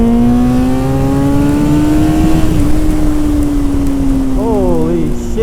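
A 2002 Honda CBR954RR 1000cc sportbike pulls hard in second gear on a wet road, a loud, steady rising engine drone close by that briefly wavers, with wind rush.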